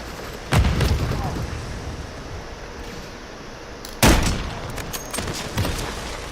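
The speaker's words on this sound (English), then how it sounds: "Tossing grenade!" Two heavy booms punctuate a video-game firefight, a grenade blast near the start and another midway, with scattered gunfire pops and a steady noisy battle ambience between them.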